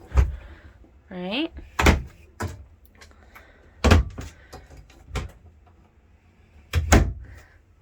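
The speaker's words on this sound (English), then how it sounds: "I'm going to shut this door" A series of sharp thuds and knocks as a door is pushed shut in a room, several short impacts spaced a second or two apart, with a person talking and moving nearby.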